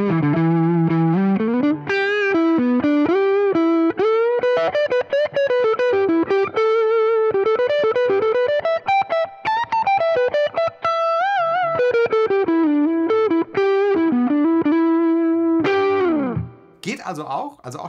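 Electric guitar played through a Fullerton OD overdrive pedal, a warm bluesy driven tone with sustained melodic lines and bends, loud and close, with a brief pause and a final strum near the end.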